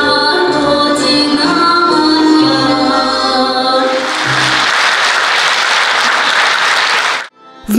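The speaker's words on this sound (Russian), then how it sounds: "сорвали бурные аплодисменты" Concert hall audience breaks into loud sustained applause after an orchestra of Russian folk instruments finishes playing, with the closing music fading into dense clapping that stops abruptly.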